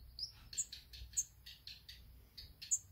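Robins chirping up in a barn, faint short high tweets repeating irregularly over a quiet background.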